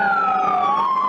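A police siren wails steadily, its pitch sliding slowly, loud and close.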